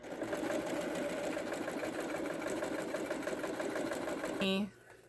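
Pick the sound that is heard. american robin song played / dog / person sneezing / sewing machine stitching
sewing machine stitching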